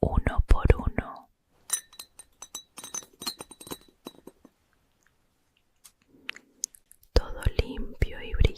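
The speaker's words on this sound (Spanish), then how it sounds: "Escucha estos sonidos sutiles, varillas de vidrio suavemente en el cristal" Glass rods tapping gently against crystal glassware, small bright clinks scattered through the middle of the clip, with soft whispering before and after.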